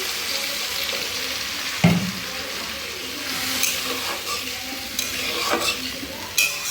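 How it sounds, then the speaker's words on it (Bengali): Tilapia fish curry sizzles steadily in a hot pan as water goes in, a broad hiss with a sudden splash near the start and light stirring scrapes throughout, close and continuous with no talking. "তো এবার দিয়ে দেব জল পরিমাণ মতো।"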